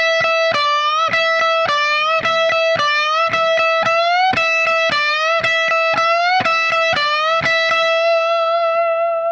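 Distorted electric guitar plays a fast, repeating lick, with picked notes in a steady alternating rhythm, loud and close with no talking.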